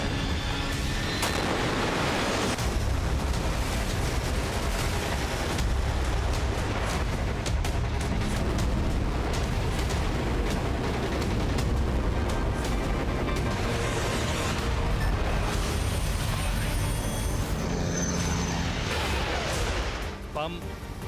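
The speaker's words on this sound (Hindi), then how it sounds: "बम, गोला, बारूद बरसा रही है।" Dense, continuous booming and rumbling blasts from military drills with artillery and bombs fill the scene, loud and layered with heavy low-end thuds, while a voice talks over much of it.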